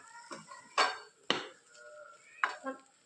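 Potatoes and spices being stirred in a pan for an aloo palak sabzi over low-medium heat, with a few sharp scrapes and clinks of a spoon against the metal pan, spaced irregularly with quiet gaps between them.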